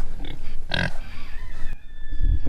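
Pastured pigs grunt and oink in short bursts at close range, with a louder squealing grunt near the start and deeper snuffling grunts toward the end, over outdoor background noise.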